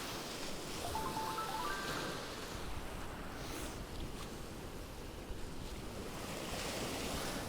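Sea waves wash and break continuously during a fishing competition for cod at Amble, with steady wind noise buffeting the microphone throughout.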